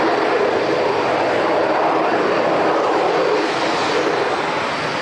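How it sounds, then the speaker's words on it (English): An airliner sits idling on the apron at Auckland Airport, its engines giving a steady, loud, unbroken broadband roar that barely changes over five seconds, with no voices. "aircraft still sitting there idling away in front of us."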